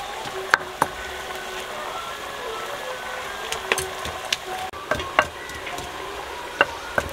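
Beef kidney and heart frying in ghee in a pan in a village kitchen, sizzling steadily and close, punctuated by sharp scrapes and clacks of a stirring utensil.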